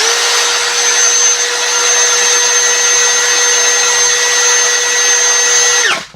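An APR AP34+ brushless drill with a 13mm chuck runs at maximum high speed, giving a loud, steady, high-pitched whine that holds for about six seconds and then cuts off abruptly as the motor stops.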